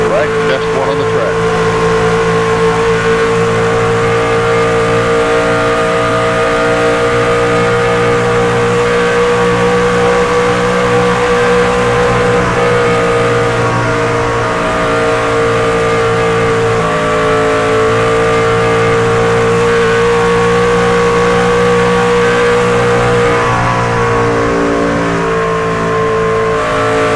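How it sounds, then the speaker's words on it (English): Race car engine roaring at a Las Vegas track, a loud continuous harmonic drone with steady pitch and slight rises and falls, close and dominant throughout. "Hope you enjoyed the sights and sounds and the roar of that engine there."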